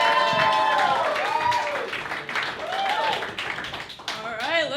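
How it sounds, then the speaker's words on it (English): A crowd at a drive-by comedy show claps for a comedian. Scattered clapping and cheering sit under loud, excited talk from the host, which runs throughout. "Let's clap it up for Paulina Bree."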